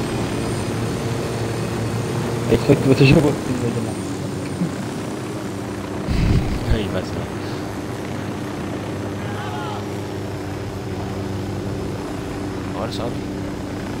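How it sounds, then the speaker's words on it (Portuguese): Steady helicopter rotor and engine drone in Ghost Recon Wildlands runs throughout, close and constant, while players talk over it in Portuguese. "Um helicóptero. Deixa eu ver se esse helicóptero tem arma aqui"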